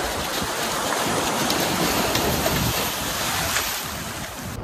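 Loud, continuous sea surf rushes and breaks nearby on the beach at Bakkhali, a dense roar of water that eases slightly toward the end; no one speaks.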